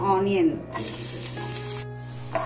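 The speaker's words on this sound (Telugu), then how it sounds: "ఆనియన్స్ కొంచెం లైట్ బ్రౌన్ వచ్చేంత వరకు వేయించుకోవాలి." Chopped onions fry in a couple of teaspoons of oil in a pan, and a bright, continuous sizzle rises suddenly after a brief tonal moment and holds steady until the end.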